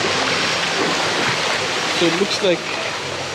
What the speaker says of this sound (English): here I can see the waterfall